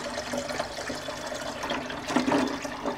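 Water poured into a shrimp aquarium, a steady splashing, gurgling stream filling the tank at close range, swelling louder toward the end, with no talk.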